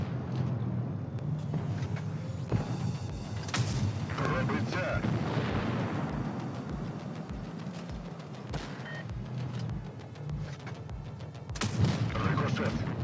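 Tank cannon shots and shell impacts from a tank video game, with heavy booming hits and rumbling battle noise spread across the clip and a sharp louder impact near the end; no speech is heard.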